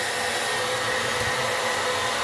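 Hair dryer blowing steadily up close to warm an original 1988 Teenage Mutant Ninja Turtles Donatello toy's price sticker, a loud continuous whooshing hum with no voices.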